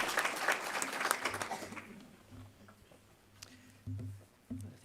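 Applause at a university faculty excellence award ceremony; a burst of clapping fills the first two seconds, then dies away into quiet room sound with a few low tones and scattered noises.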